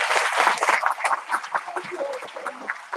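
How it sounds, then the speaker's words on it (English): An audience in a lecture hall claps for a NASA guest speaker, uneven and moderately loud, with voices talking over the applause. "A round of applause for the speaker."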